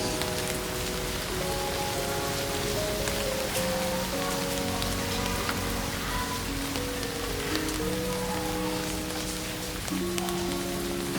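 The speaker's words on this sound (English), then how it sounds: "I love the rain." Steady rain falls throughout, a dense wash of patter with soft music-like tones drifting underneath; no one speaks.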